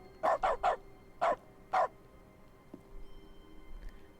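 Five sharp dog barks from the dog mode of The Stanley Parable: Ultra Deluxe video game, clustered in a quick burst of three and then two more, fairly close and clear over a quiet hum.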